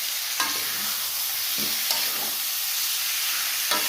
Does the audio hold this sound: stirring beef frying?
yes